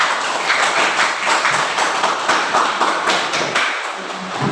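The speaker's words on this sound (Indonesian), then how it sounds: "Kita beri aplaus kepada kelompok 2" A classroom group claps for a presenting team, a dense steady patter of many hands that continues for several seconds and eases slightly toward the end.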